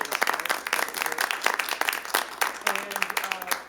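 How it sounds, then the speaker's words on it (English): Scattered applause from attendees at a city council meeting, uneven bursts of clapping in a room, fairly quiet, with a voice speaking over it in the second half. "let's give them a big round of applause"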